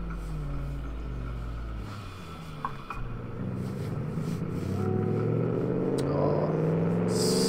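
A 1946 Gasmea car engine revs on a dirt track in the Automation car generator driving game. It holds a low rumble, then climbs in pitch as it accelerates, loud and steady with no talk.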